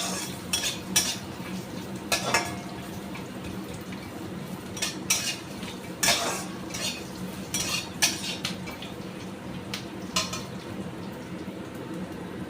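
Coconut and coriander roasting in a pan with peanuts are stirred with a metal spoon, giving repeated sharp scraping clinks at an irregular rhythm over a soft, steady frying sizzle, close and fairly loud, with no voices.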